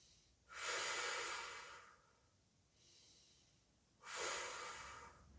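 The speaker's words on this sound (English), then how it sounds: "2 or 3 big deep breaths here." Deep breaths taken during seated Pilates mobility exercise, two loud airy inhale-exhale cycles with a quieter breath between them, close and alone.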